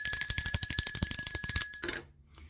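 A bell rings in rapid repeated strokes for nearly two seconds, bright and fairly close, then the ringing cuts off into near silence.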